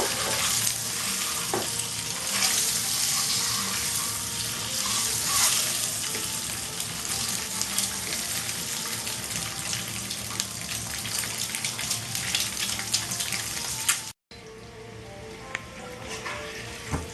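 Steady, loud sizzling of eggs frying in oil continues with stirring scrapes, briefly cutting out near the end before resuming.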